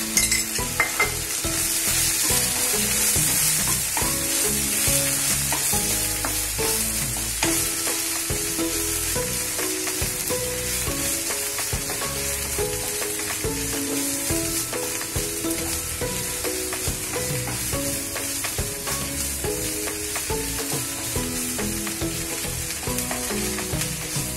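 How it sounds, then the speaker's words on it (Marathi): Okra stir-fried in a pan over a high flame hisses and crackles continuously and loudly, with frequent spatula scrapes and clinks against the pan throughout. "आणि मोठ्या गॅसवरच परतते"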